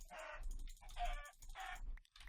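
Minecraft chickens cluck in the video game, three evenly spaced short clucks that are fairly quiet, followed by a faint fourth, with no speech over them.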